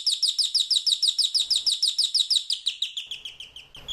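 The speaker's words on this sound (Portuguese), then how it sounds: "outros pássaros começaram a entoar a" Birds sing in a rapid, evenly repeated series of bright chirping notes, loud and close, with a faint low background and no talk.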